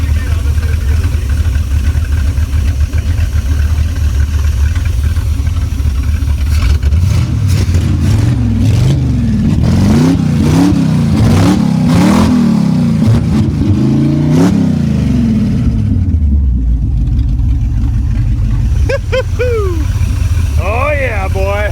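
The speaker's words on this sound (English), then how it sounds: "That's a peppy motor." An abandoned Chevrolet C10 project truck's engine idles loudly, then revs repeatedly in quick rising and falling bursts before settling back to idle, close up, with people talking over it near the end.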